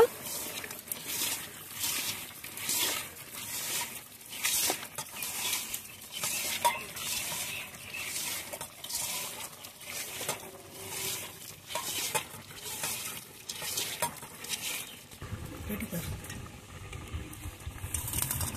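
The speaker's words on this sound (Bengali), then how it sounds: "এখন সবকিছু একসঙ্গে ভালোভাবে মাখিয়ে নেব।" Turmeric, dried chilli powder and other ground spices mixed together in a bowl for a home-style hand-mixed meat dish, making a steady wet stirring and rubbing sound with soft clinks throughout, ending in a duller shuffling texture.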